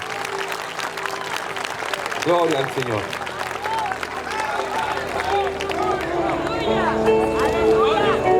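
A church congregation at a revival gathering applauds with dense, continuous clapping while someone shouts praise over it and others call out around him.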